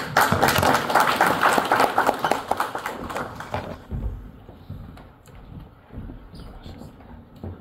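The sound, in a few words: audience applause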